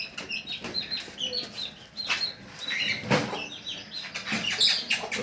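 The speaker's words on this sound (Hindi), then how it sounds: "और ये हैं दो मुर्गे, जो छोटे बच्चे आए थे और अब माशाल्लाह अच्छे हो रहे हैं" Two young roosters cluck in short, repeated bursts nearby, with faint chirping in the background.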